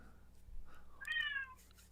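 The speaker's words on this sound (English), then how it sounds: "Is that your cat?" A pet cat gives a single soft, faint meow indoors, rising and falling over about half a second against low background hum.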